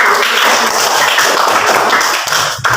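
A classroom of students claps together in a dense, loud burst that carries on steadily for a few seconds.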